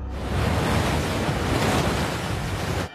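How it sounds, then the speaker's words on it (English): Raging surf pounds on rocks in the Sea of Cortez, a loud, dense roar of crashing waves with wind rush, continuous and close, with no voices. "The only thing you can see is the white of the pounding water on the rocks."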